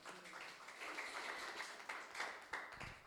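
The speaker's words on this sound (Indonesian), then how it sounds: "Tepuk tangan dong buat Tuhan." Church congregation clapping hands during a worship service, a scattered and fairly soft patter of claps with a few sharper individual slaps near the end.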